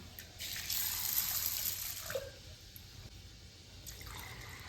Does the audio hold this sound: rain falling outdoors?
no